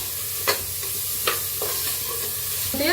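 Sprouted moth beans are stirred in hot oil with turmeric: a soft, continuous sizzle broken by several sharp spoon scrapes against the pan, close up with no voices.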